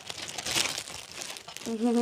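Small paper notes, sent as gifts from a school, crinkle and rustle in a quick close handful, and a voice starts speaking near the end.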